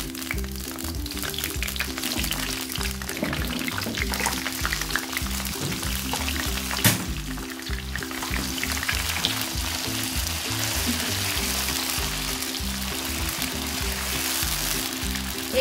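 Eggs fry in a pan of browned onions for an egg biryani, a steady loud sizzle and crackle that runs on without pause, with occasional stirring clinks and no speech.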